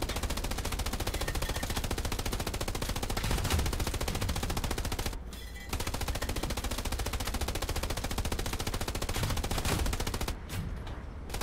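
Dense, sustained automatic gunfire from the World War II shooter Hell Let Loose, rapid machine-gun bursts filling nearly the whole stretch at steady loudness, broken by a brief lull midway and near the end.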